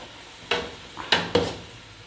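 Whole spices hit a pot of hot oil with turmeric and red chilli for chicken pulao, giving three short sizzling bursts with clinks and stirring sounds in between.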